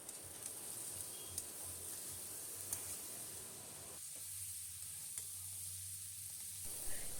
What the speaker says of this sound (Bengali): এবার আগে থেকে ধুয়ে রাখা গোবিন্দভোগ চাল দিয়ে দেব, দিয়ে ভালো করে মিশিয়ে নিতে হবে।